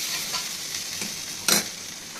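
Rice, lentils and ginger-chili paste fry in a pan with a steady soft sizzle, and a brief louder scrape of stirring comes partway through.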